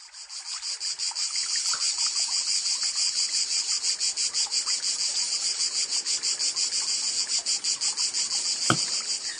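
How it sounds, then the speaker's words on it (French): A loud, continuous buzzing cicada chorus in Provence pulses rapidly and steadily, close and unbroken throughout, with one brief sharp tap near the end. "Ce bruit vient de la cigale."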